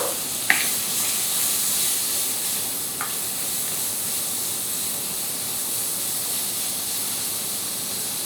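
Sliced bacon sizzling in a pan as its fat renders for a duck confit pie, a steady close hiss throughout with a brief clink near the start.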